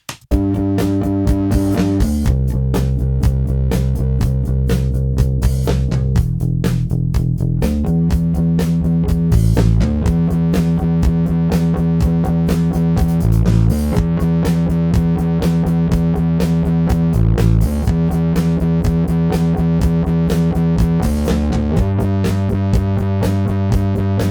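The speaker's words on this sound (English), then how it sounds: "I'm going to compress that distortion quite hard." A heavily distorted, fuzzy bass line plays steady repeating notes, squashed flat by hard compression so the level barely moves.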